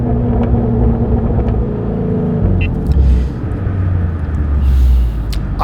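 Mustang, either a Shelby GT350 or a 10-speed Mustang GT, rumbling loudly from inside the cabin, a deep low engine drone with shifting pitch and a few sharp exhaust pops breaking through near the end.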